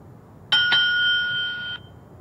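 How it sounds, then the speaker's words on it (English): A Beason Bluetooth speaker mounted for electric unicycle riding rings its bell: two quick strikes followed by a sustained bright ringing tone, loud and close, then an abrupt stop. "if you're playing music, it'll uh, mute the music and ring the bell"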